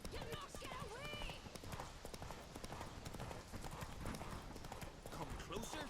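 Hooves of the horse Roach pounding in a quick, rhythmic clip-clop gallop in The Witcher 3, continuous and close, with game voices talking over it.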